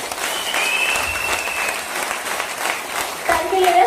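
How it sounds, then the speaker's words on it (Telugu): An audience claps hard with hands raised, giving a full, steady round of applause nearby, with a voice briefly audible near the end. "సో ఒక్కసారి చేతులు పైకెత్తి గట్టిగా అప్లాజ్ ఇవ్వండి."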